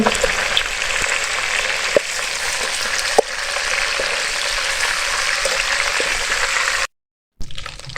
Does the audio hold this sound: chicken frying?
yes